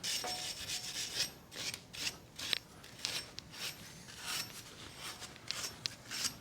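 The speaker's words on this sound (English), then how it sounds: "I've got my wire brush here. Just give this a quick dust off." Wire brush scrubbing the hub face of a 2013 Mini Cooper D 1.6 diesel during a front brake disc change: a series of quick, close rasping strokes in uneven bursts, with no talk.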